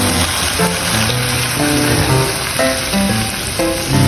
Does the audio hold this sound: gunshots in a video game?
no